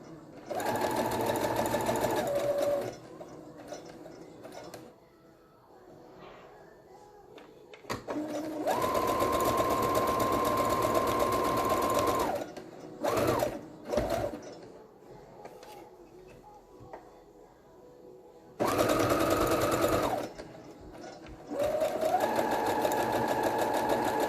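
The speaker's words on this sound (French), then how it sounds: "donc là, je vais coudre le haut" A sewing machine stitches the top seam of a fabric mask in several long bursts of rapid whirring, separated by pauses with quieter handling and a few clicks.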